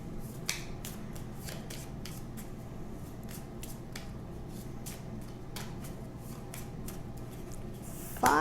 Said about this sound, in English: Gotta shuffle.